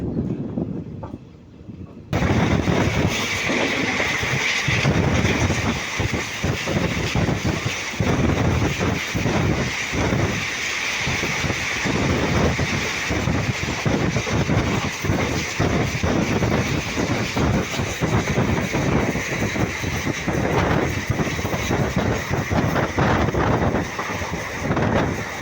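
The 15968 Rangiya Express runs at high speed. After a quiet opening, a loud, rushing roar with heavy wind buffeting takes over, and repeated thumping clatter runs through it.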